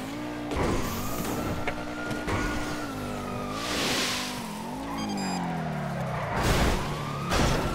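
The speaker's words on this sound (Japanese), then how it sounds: "なんかね、四つ股側ずっとサイレンの音聞こえんねんけど、救急隊来てんのかも" Wailing police-style siren in GTA roleplay, rising and falling over a busy mix of car engines and tire squeals, loud and close throughout.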